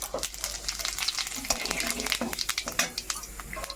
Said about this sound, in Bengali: জিরাটা একটু ভাজা হোক, তাহলে গন্ধটা ভালো বেরোবে, ভাজা মশলার গন্ধ।